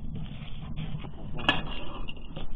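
Pots, dishes and cutlery clatter and clink close by while cooking gear is set out for rabbit and potatoes in a kazan over a campfire, a steady busy rattle with one sharper clink near the middle.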